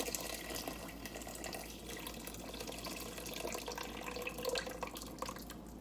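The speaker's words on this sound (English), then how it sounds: "I'm just gonna put water in here." Tap water runs steadily into a soup pot for squash tomato soup, about 1.5 liters filling with a continuous close splashing rush and small drips, with no talk over it.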